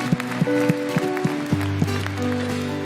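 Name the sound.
congregation applauding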